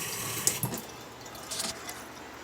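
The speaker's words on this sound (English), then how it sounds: "And we have running water." Water running from a newly replaced outdoor spigot, a steady close splashing stream with a few brief louder splashes, heard alone without voices.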